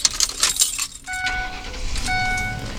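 Keys for a small four-wheel-drive truck jangling up close in a few bright metallic rattling bursts, followed by a short chiming electronic tone pattern that repeats.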